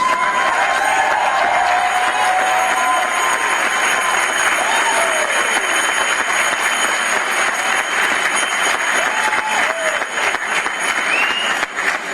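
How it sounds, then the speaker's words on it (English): A large commencement crowd applauds Hartwick College faculty and staff, sustained dense clapping with some cheering and whistles mixed in, steady for about twelve seconds. "thank them by applauding them for their efforts"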